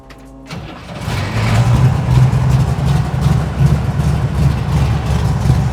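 A 1968 Chevrolet Camaro engine cold-starts after a short cranking burst, catching loudly and settling into a strong, rumbling idle with a steady low throb.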